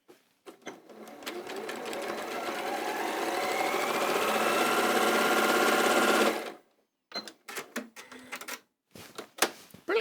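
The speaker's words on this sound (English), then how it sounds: "Now, I think all of you are okay with sewing long seams like this." Sewing machine stitching a long seam joining fabric strips, a rapid mechanical whir that builds and runs steadily for about six seconds, then stops, followed by short bursts of clicking and handling noises.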